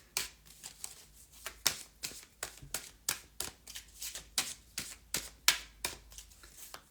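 A new, stiff deck of smooth, shiny tarot cards is shuffled in a quick, regular series of crisp riffling bursts, about a dozen sharp flutters close to the listener with short gaps between them.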